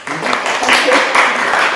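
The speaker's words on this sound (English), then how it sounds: "Maybe a round of applause." An audience gives a round of applause at the end of a talk on food heritage research, a short burst of clapping from many people with some speech mixed in.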